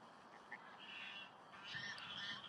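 Ducks and other birds gathered on a lakeside car park give faint, scattered calls against steady outdoor background noise.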